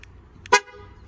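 A 2020 Ford F-350 Super Duty Platinum pickup locks from its key fob with a short, sharp horn chirp, preceded by faint electronic beeps, then quiet.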